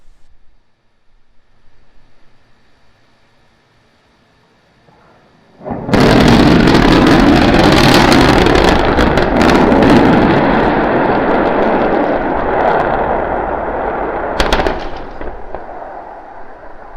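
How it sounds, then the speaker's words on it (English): Starship SN9 rocket engines roar to life for the landing burn, a sudden loud broadband rumble that erupts after quiet seconds and holds steady, with a sharp crackling burst near the end. "We're preparing to restart 2 engines, flip the vehicle vertical, then transition to 1 engine for the landing burn."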